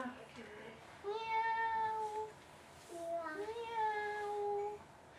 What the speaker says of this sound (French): Un chat.